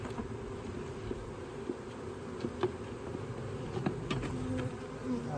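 Honey bees buzz steadily around hives in a bee yard, a dense continuous hum close by, with a few faint clicks and knocks from handling underneath.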